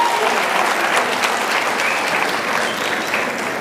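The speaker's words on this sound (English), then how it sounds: "Let's clap for ourselves." Loud, dense applause from a large alumni gathering, many hands clapping steadily and close throughout, with faint crowd murmur mixed in.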